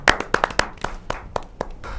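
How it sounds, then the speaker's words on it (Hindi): A handful of distinct, sharp hand claps welcoming a poet at a Hindi kavi sammelan, close and irregular, thinning out within two seconds. "जोरदार ताली के साथ"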